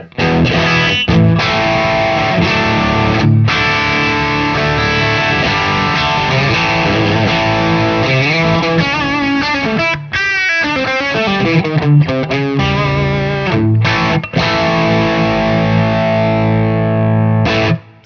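Electric guitar through a Wampler Pantheon overdrive pedal at its lowest gain plays chords and short runs with brief pauses between phrases, loud and gritty but fairly clean-edged.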